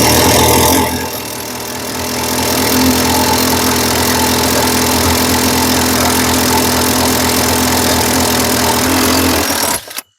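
A hole saw cuts a 1.5-inch hole into a Host Cascade camper storage compartment, a loud, steady grinding drone running for about nine seconds before it spins down abruptly at the end, with no talking.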